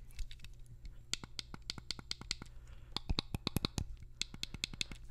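The buttons on a Vapor Shark rDNA vape mod are clicked repeatedly in quick, crisp, close-up taps, some in rapid bursts and others spaced out, over a quiet background.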